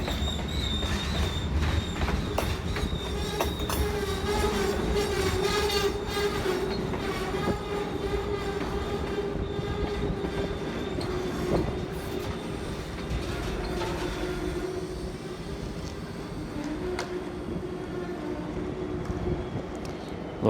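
A model train locomotive runs along its track with continuous rolling rumble, rhythmic clicking over rail joints and squealing wheel tones, close and steady throughout.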